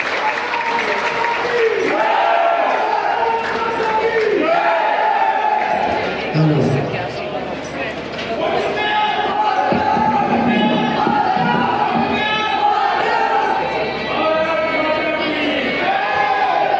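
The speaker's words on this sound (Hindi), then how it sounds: "एक बार हम सब लोग उनका ताली बजाकर स्वागत सम्मान करें।" A large crowd at a political rally claps and cheers continuously, a dense, loud wash of applause with voices rising through it and a brief lull midway.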